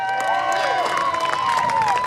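A crowd at a police dog show cheers and shouts together, a steady, loud wash of raised voices with whoops rising and falling throughout.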